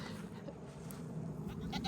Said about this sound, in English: I figured I'd come show you guys the goats